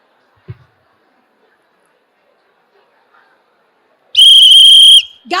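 A sharp referee-style whistle is blown once as a signal during an interactive clapping game at a parenting seminar, a loud shrill blast of nearly a second following near silence, with a brief clap-like sound beforehand.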